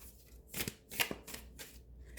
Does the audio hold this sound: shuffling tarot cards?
yes